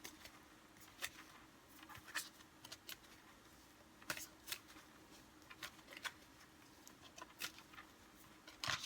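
Oracle cards being shuffled and drawn, soft papery riffles and flicks arriving in short irregular bursts, close and quiet with no talking.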